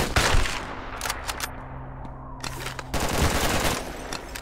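Gunfire in the video game Red Alliance comes as rapid automatic bursts at the start, again around the middle and steadily toward the end, loud and close over a constant low game hum, with no talking.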